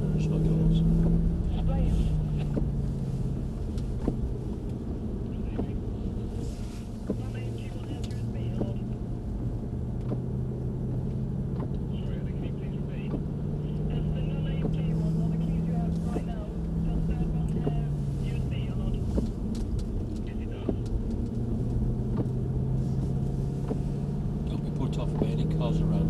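A Mercedes C63 AMG engine drones steadily from inside the cabin, a low constant rumble with slow rises and falls in pitch as it accelerates and eases off.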